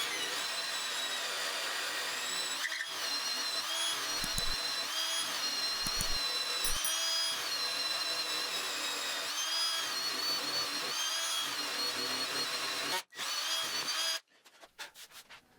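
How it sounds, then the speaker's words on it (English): A power drill bores holes through a wood slab for a headboard, a continuous loud whirring grind broken by short pauses between holes, ending with a few clattering knocks. "drill a hole through each of the box locations"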